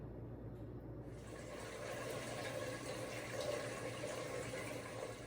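Whey drains from homemade yogurt as a faint, steady trickle and hiss of liquid running off, continuous and quiet with no talking.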